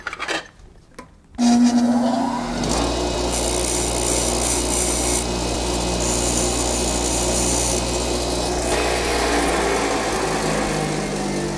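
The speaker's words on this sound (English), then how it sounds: "Sharpened on the worst grinder ever." A homemade folding knife blade is sharpened on a bench grinder: a loud, steady grinding rasp with a whining motor tone begins abruptly after a brief quiet start and runs continuously to the end, with no talking.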